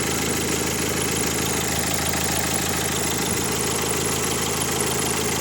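A car engine idles steadily and evenly up close, a constant low rumble with a faint mechanical rattle and no voices.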